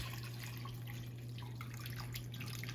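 Water runs steadily from a tap into a pot of sweet potatoes, a constant close splashing and trickling stream under a low electrical hum.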